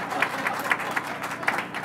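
Scattered clapping from a lunch audience at a mentoring network event, a handful of distinct claps in loose rhythm over a murmuring room, moderately close but not loud.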